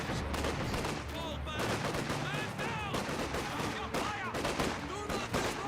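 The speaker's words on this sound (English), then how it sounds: "he is still a bit vulnerable to all the small arms fire" Small arms fire crackles continuously in a Company of Heroes 2 battle, rapid overlapping gunshots and bursts at steady loudness under a voice talking throughout.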